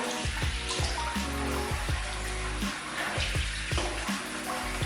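Tap water runs steadily while a man rinses off after a razor shave, a continuous splashing flow at close range with intermittent low knocks and thuds over it.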